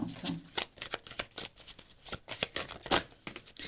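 Tarot message cards shuffled by hand, a quiet series of quick papery riffles and soft slaps in an uneven rhythm, close and faint, with no talking.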